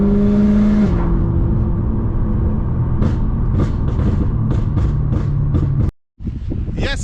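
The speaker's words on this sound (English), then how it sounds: "the gearbox paired with the engine, the sound. Bro, it's ridiculous" Straight-piped BMW E92 M3 with a V8 engine, a loud close drone that drops in pitch, then a series of sharp revs and bursts, a brief cut, and more revving at the end.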